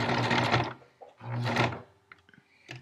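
A sewing machine stitches a fabric face mask for a hospital in two short, fairly loud bursts of rapid whirring, followed by quieter handling clicks.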